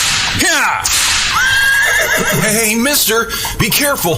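Horses neighing loudly in a horror audio drama, several shrill whinnies up close over rumbling hooves and carriage noise, while a man calls out a warning.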